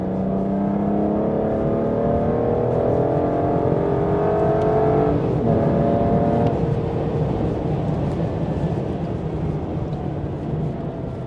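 A 2006 Aston Martin DB9 accelerates hard in third gear, heard from inside the cabin: a loud, continuous engine roar that climbs steadily in pitch, then shifts and settles into a dense, steady drone.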